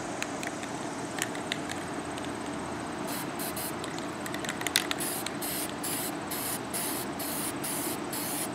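Spray paint hisses from an aerosol can while a pair of crutches is painted pink, with a steady close hiss at first, followed by a run of short, evenly spaced bursts.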